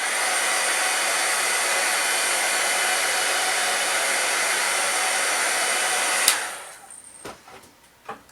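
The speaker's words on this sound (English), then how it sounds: "I'm just going to quickly go over it with my heat tool" A heat tool blows hot air steadily over a colored paper flower, a loud continuous broadband whoosh for about six seconds before it switches off, followed by a few faint handling clicks.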